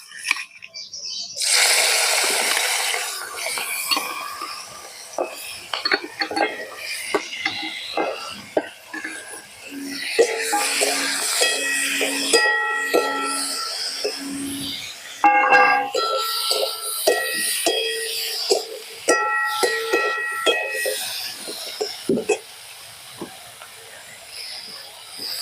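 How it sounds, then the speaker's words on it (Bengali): Prawns frying in hot oil for a rural-style Bengali dish, a steady sizzling hiss that swells and fades in bursts, with clinks of utensils and brief sounds from around the kitchen. "তেল গরম হয়ে গেছে, এবার চিংড়ি মাছ ভেজে নিচ্ছি।"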